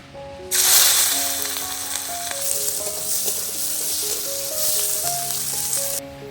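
Chopped green chillies and onion hit hot oil in a pan with a sudden loud sizzle that keeps crackling steadily for several seconds, with a few stirring clinks and no talking.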